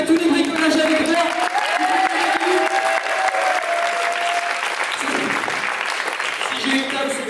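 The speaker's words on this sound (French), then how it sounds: "On peut l'applaudir" A crowd applauds warmly during an amateur stage show, a loud, continuous wash of clapping with some cheering and voices mixed in underneath.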